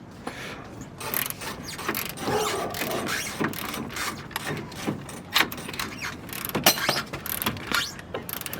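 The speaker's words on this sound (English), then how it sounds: "Ratcheting with the automatic tool." An automatic ratchet tool works on a 1971 Camaro during a Ridetech suspension install, producing continuous rapid clicking and whirring in close, uneven bursts for several seconds.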